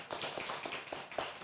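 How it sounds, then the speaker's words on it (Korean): A small audience at a Korean poetry seminar marking poet Garam Lee Byung-gi's 130th birth anniversary claps briefly, a few soft scattered hand claps heard fairly quietly. "예, 고맙습니다. 박수."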